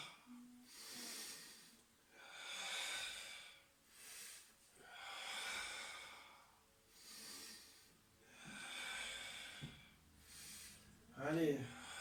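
Breaths pushed out through the mouth during a Pilates core-strengthening exercise, about six soft, airy exhalations at a slow steady rhythm, close and quiet, with a brief snort-like sound near the end.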